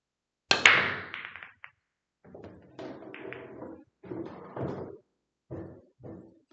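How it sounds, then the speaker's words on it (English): A pool break shot with a JFlowers JF-Force break cue begins with one sharp, loud crack, followed by several seconds of scattered ball clicks and rolling knocks that fade in separate bursts. "Got a pretty nice thud sound off of the cue ball there"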